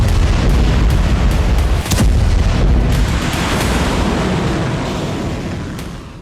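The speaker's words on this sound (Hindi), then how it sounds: "इजराइल के हाइफा में कई धमाके हुए हैं। IDF बेस के पास कई रॉकेट ब्लास्ट हुए हैं।" Rocket blasts and explosions near a military base in Haifa, Israel, a loud continuous rumbling roar with a sharp boom near the two-second mark, gradually fading toward the end.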